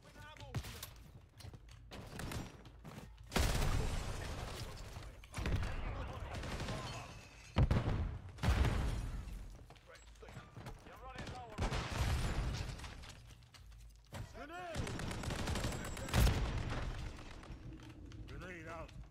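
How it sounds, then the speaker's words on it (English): Gunfire in a video game shooter, repeated loud bursts and booming blasts rising and falling over nearly twenty seconds, with voices talking between and under the shots. "I'm taking fire."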